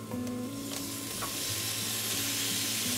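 Eel pieces stir-fry in a hot pan with lemongrass, chili, curry powder and turmeric, producing a loud, steady sizzle with occasional scraping stirs throughout, and no voices.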